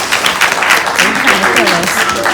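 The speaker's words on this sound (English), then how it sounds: "Let's give ourselves a round of applause for making it through 10 years." A lively round of audience applause at a Kwanzaa 2019 gathering, with voices and cheering mixed into the clapping throughout.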